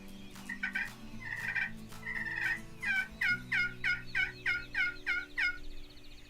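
A wild turkey gobbles at daybreak, repeating its call in a rapid series of distinct bursts that build into an evenly spaced run, fairly close and clear over quiet morning woods.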